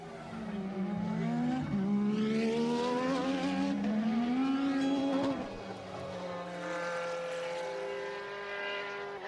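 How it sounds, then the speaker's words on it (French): A Formula 1 racing car screams past at high revs, the engine pitch rising and falling through gear changes, loud and then fading to a lower hum. "Quand on pilote une voiture de Formule 1"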